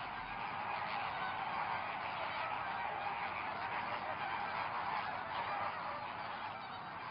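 A flamingo colony on an island calls continuously, a dense wall of honking goose-like cries from many birds blending into a steady, fairly faint din with no single call standing out.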